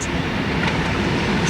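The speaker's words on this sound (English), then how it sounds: "There's a train going past!" A speeding train passes close by, producing a loud, dense roaring rush that holds steady throughout the short moment.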